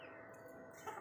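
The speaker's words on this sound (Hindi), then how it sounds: "अबे मुर्गा? ये मुर्गी है।" Hen clucking in a short, quiet burst, with faint fowl calls rising briefly near the end over low background noise.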